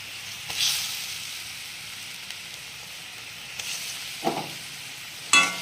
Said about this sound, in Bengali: তো আমার এখানে অল্প পরিমাণ পোস্তটা ফুটে গেছে